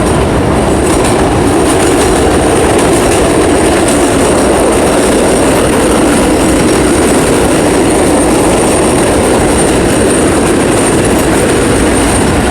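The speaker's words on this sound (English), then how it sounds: "Hold on 1 minute, train." A train passing close by, loud and sustained, with a dense rumble and clickety-clack of wheels on rails filling the whole stretch, no voices.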